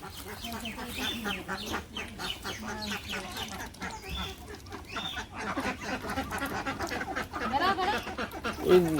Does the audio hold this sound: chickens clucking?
yes